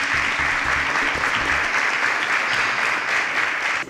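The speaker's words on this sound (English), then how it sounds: "let's give the top three finalists a hearty cheer" Studio audience at a televised student competition applauds the top three finalists, a loud, steady wash of close clapping and cheering that holds throughout, with a beat of music underneath at the start.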